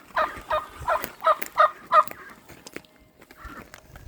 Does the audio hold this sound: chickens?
yes